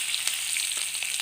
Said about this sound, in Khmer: ចៀនត្រីសមុទ្រទៀតណា